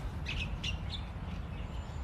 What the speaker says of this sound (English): this is the area where all these birds are having an absolute fantastic time